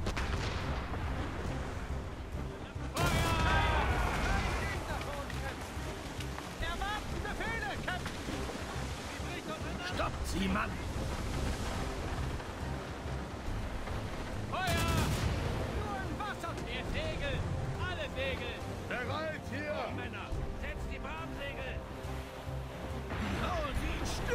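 Ship cannons boom in a naval battle in Assassin's Creed Rogue, two huge broadband blasts amid ongoing gunfire, crashing waves and shouting crew voices, with dense battle noise and talk throughout.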